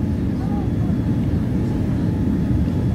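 Steady, loud low-pitched roar of engine and cabin noise aboard a Virgin Atlantic airliner from Heathrow approaching Miami International Airport, continuous and unchanging throughout.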